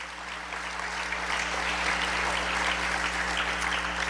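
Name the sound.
congregation applauding in church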